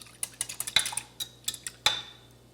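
Whisk clinking against a bowl while mixing a lemon juice, lemon zest and Dijon mustard dressing with salt and pepper, in quick irregular metallic taps, close and fairly quiet, with no talk.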